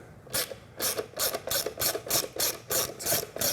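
A 5 mm Allen key tightens a screw on a Motogadget mo.blaze Pin turn signal on a Triumph Bonneville T100, giving about ten quick, evenly spaced ratcheting clicks, close and crisp, with no talking.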